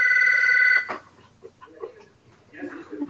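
A phone ringtone sounds steadily for under a second, then cuts off, followed by quiet rustling and soft indistinct voices.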